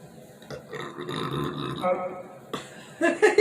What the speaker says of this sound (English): Yes, that was a burp.